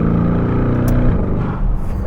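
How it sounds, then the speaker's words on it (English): A Novitec Lamborghini Urus S Esteso widebody engine in Corsa mode, with synthetic engine noise piped in, gives a deep, loud, steady drone of rich harmonics that shifts pitch partway through. "in Corsa mode, it's actually pumping in some fake noise in the Lamborghini"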